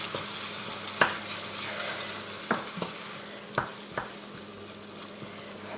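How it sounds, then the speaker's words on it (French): Mussels and melting roquefort are stirred in a pan over lowered heat, a steady sizzle with a few sharp utensil scrapes and taps spaced across it; no one talks. "Et on remue jusqu'à qu'il fonde."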